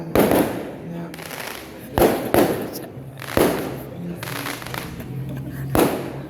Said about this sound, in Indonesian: Nunggu petasan dulu ya.